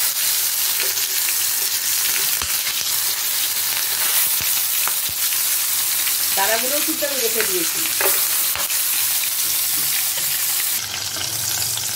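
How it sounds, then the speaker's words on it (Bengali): Two prawns fry in hot oil in a wok, a steady close sizzle and crackle running throughout, with a few sharp pops and a brief spoken remark over it. "তেলটা গরম হয়ে গেছে, এখন আমি চিংড়ি মাছ দুটো ভালো করে ভেজে নেব।"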